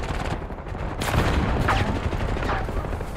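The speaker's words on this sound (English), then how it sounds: "This SMG is just tearing me up." Rapid submachine gun fire in the Black Ops 6 video game, a dense continuous burst of shots that swells louder midway and keeps going to the end.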